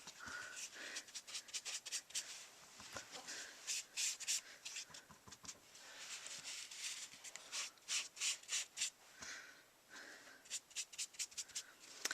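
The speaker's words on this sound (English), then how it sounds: "Just highlight them with the sponge and the Pink Pirouette, just to give it a little depth." Sponge dabbing Pink Pirouette ink onto card edges, heard as quiet, close, rapid rubbing and tapping dabs in irregular bursts.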